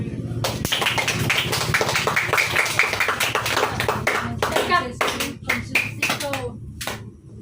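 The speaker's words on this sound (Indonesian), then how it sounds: "Oke, tepuk tangan." Children clap their hands at a community reading park event, a loud burst of sharp, quick claps that swells and then breaks into scattered, slowing claps, with kids' voices mixed in.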